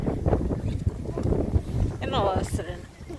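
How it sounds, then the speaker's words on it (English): Wind buffets the microphone in low rumbling gusts while people talk nearby, with a brief higher-pitched voice near the end. "It's very windy."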